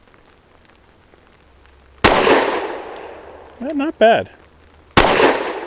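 Two sharp, loud pistol shots about three seconds apart from a lightweight BUL Armory Ultralight firing Federal Premium HST ammunition, each with a ringing tail; a brief voice speaks between them.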